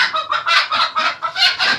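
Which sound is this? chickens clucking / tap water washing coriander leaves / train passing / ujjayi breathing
chickens clucking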